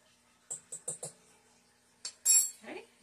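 Metal measuring spoon clinking as a teaspoon of baking powder is measured for chocolate chip cookie dough: four quick light taps, a pause, then a short scrape and clatter, close and quiet.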